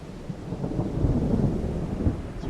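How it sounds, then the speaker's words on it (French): Thunder rumbles over steady rain in a night storm on a rough sea in the submarine game Silent Hunter 3, a continuous low roar with no voices. "comme par hasard, il fait nuit, comme par hasard, il pleut"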